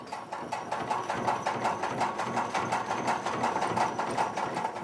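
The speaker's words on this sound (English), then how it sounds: "This is our oats bruiser, our kibbler. You can hear it engaging there." A belt-driven oat bruiser over 150 years old grinds grain, clattering rhythmically, a fast steady chugging with rattling and a low motor hum, moderately close and continuous throughout.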